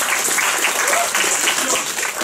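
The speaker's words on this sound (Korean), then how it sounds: "이제 한 번 더 박수." Audience applause following a comedic school skit, a steady wash of clapping that fills the whole short stretch at close range.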